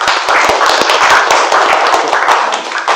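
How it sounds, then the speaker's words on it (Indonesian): A classroom of students applauding a student group, a dense, steady burst of many hands clapping close by that eases slightly toward the end. "Beri tepuk tangan dulu."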